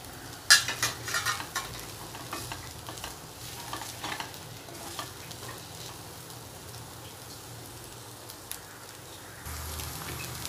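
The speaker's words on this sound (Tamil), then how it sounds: "வெண்டைக்காய் நல்லா ஃப்ரை ஆயிடுச்சு இப்போ வந்து நம்ம அடுப்பு ஆஃப் பண்ணிக்கலாம்" Okra fries and sizzles in a pan with crushed roasted peanuts, a steady hiss broken by scraping stirs and clinks of a spoon, loudest early on and continuous throughout.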